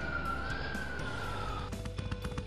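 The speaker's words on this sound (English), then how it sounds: "Fire truck." A wailing fire truck siren holds a steady rising tone, then gives way to clattering, rhythmic mechanical noise near the end.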